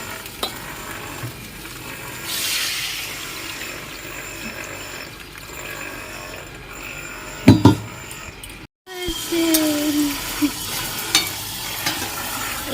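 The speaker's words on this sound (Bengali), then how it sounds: "এখানে হচ্ছে বড়া ভাজা" Bora fritters frying in oil make a soft, continuous sizzle with stirring and scraping, a couple of sharp clatters, a brief dropout, then a brighter sizzle resuming.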